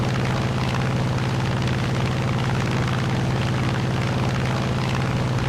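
The XP-55 Ascender fighter plane's engine drones in War Thunder, a loud, steady, throbbing propeller roar with a pulsing low hum that holds unbroken throughout, no speech.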